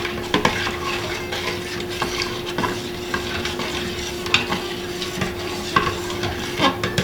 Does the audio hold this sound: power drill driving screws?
no